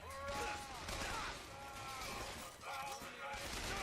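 Machine gun fire in Bioshock Infinite: a dense, steady burst of gunfire that runs without pause, mixed with game effects and a voice talking underneath.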